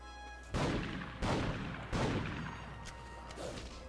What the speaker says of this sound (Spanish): Ahí van 3 tiros, 5 tiros.